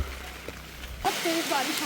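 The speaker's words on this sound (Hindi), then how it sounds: "अब तेज़ बारिश हो रही है" Heavy rain falling on Naukuchiatal lake, a steady close wash of drops that starts abruptly partway through after a low rumble, with scattered brighter splashes.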